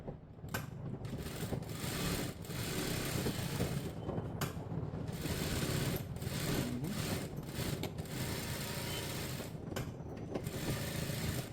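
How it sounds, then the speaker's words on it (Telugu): A sewing machine runs steadily in reverse while stitching fabric for a blouse neckline, a continuous close mechanical whir with a rapid needle rattle and faint clicks throughout, no voices. "ఇలా రివర్స్ చేసేసుకుని కుట్టు వేసేసుకోండి."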